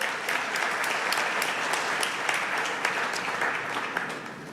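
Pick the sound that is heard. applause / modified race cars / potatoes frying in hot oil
applause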